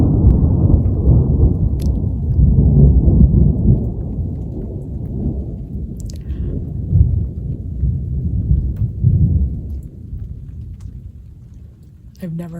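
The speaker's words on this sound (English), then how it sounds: "I've never heard thunder like that before." Deep, loud thunder rolls continuously near an overland trail, rumbling and swelling in waves over light rain, with occasional faint voices.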